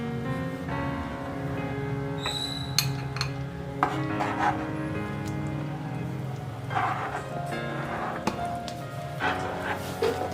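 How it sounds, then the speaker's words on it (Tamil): A spoon works rice flour into a pan over low flame for kara kolukattai, making steady scraping and light metallic clinks throughout while someone talks over it. "இந்த அரிசி மாவை ஆட் பண்ணிவிட்டு இதை கொஞ்சம் கொஞ்சமாக இப்படி மிக்ஸ் பண்ணி விட்டுக்கோங்க"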